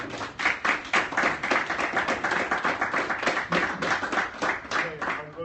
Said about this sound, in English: Good round of applause for